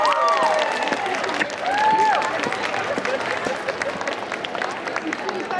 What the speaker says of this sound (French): Je vous demande un tonnerre d'applaudissements pour ces jeunes filles.